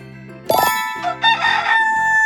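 A bright chime, then a rooster crows loudly in a drawn-out call over light background music.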